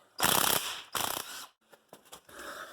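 Ratchet wrench loosening the bottom nut on a small-block Chevy 350 engine, two loud close bursts of rapid clicking, followed by a few softer metallic knocks and handling sounds.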